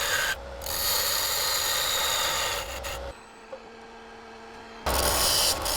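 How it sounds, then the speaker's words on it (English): A diamond parting tool cuts tenons into both ends of a spinning wood blank on a lathe, giving a steady, loud scraping rasp that breaks off midway, leaving a quieter motor hum before the cutting noise returns near the end. "Next, I use a diamond parting tool to establish tenons on both ends of the blank."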